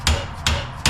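Three loud, sharp metallic hammer blows strike a hub puller on the tapered rear axle of a 1952 Dodge Coronet, evenly spaced and close up, each ringing briefly.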